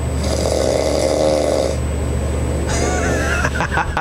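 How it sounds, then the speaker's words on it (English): Loud, rasping snoring from a sleeping person in a bedroom, drawn-out breaths rumbling steadily through the first half before a pause and a rougher, broken snore near the end. "Snoring occurs when tissue in the back of the mouth collides and vibrates during breathing."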